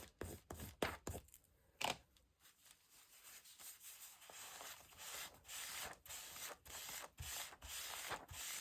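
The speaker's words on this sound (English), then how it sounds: "Just rubbing it out with the Kleenex." Quiet dry scrubbing of a Kleenex tissue rubbed over paint on art-journal paper, in quick strokes that start as separate scuffs and settle into a steady stream of soft scratchy friction, with no talking.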